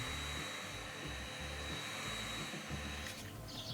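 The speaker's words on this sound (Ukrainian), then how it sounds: "осаджуємо гарячим повітрям від фену" A hair dryer blows hot air onto plastic from a bottle, steady whooshing roar and a thin whine, its low hum pulsing unevenly throughout.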